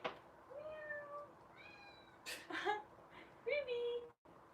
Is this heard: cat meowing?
yes